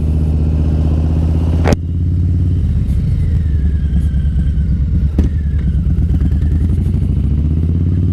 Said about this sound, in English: So why am I riding the Harley on a Sunday?